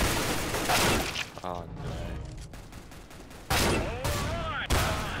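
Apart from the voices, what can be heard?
AK rifle gunfire in CS:GO video game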